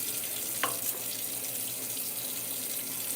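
Tap water runs steadily into a sink for rinsing, a constant close hiss with one brief splash near the start and no talking.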